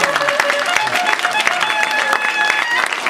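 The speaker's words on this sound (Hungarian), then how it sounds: "Óriási tapsot adtál!" An audience at a stage comedy show claps in a steady, moderately close burst of applause, dense and continuous with faint crowd murmur beneath.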